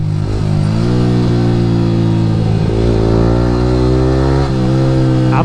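A Yamaha R15 V3 motorcycle fitted with an Akrapovic R9 exhaust revs and pulls hard on a morning ride, its loud, close exhaust note rising and falling steadily through the gears without pause.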